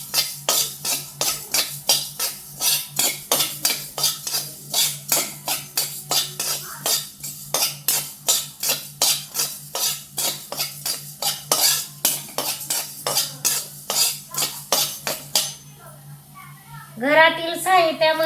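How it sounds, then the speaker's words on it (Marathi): Coriander seeds dry-roasting in a pan while a spoon stirs them in quick, regular scraping strokes, roughly two per second, close and clear; the stirring stops near the end and a voice speaks. "आता हे धने आपण भाजून घेऊया."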